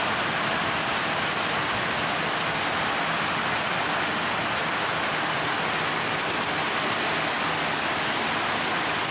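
Steady, dense rain pours down outdoors during the first rain of the year, a continuous loud hiss with no breaks and no voices.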